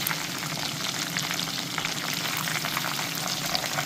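Breaded chicken cutlets for chicken parmesan fry steadily in a pan with a dense, even sizzle and crackle that holds at the same level throughout, heard up close with no talking.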